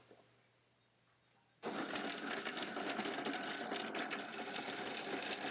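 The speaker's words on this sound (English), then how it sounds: "Inserting into the food processor." A food processor chopping dry, old pink Fimo polymer clay roars to life after a quiet start and then runs as a loud, dense, steady whir with a gritty rattle from the chunks of clay.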